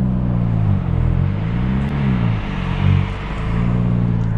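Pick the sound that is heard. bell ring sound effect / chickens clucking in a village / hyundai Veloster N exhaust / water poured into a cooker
hyundai Veloster N exhaust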